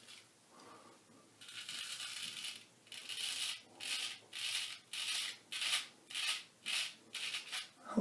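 A straight razor honed on a natural stone scrapes across stubble in a quiet, close series of about seven rhythmic rasping strokes, each a short hiss separated by brief pauses.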